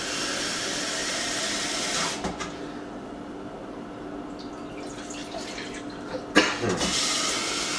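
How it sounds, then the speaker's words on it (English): Water pours from a tap into a pan on a stove in two bursts, a steady hissing stream with a quieter gap and clinks between. "I'm just gonna put some water in the pan."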